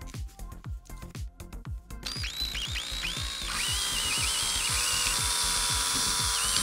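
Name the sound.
power drill drilling holes through plastic bottle caps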